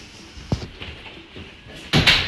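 A house door on an outside porch thuds shut, then a sharp click follows after a short pause, close by in a quiet room.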